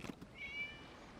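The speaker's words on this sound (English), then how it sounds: "It was just a cat." A single short, faint cat meow from a video game rises as a thin tonal cry over quiet background.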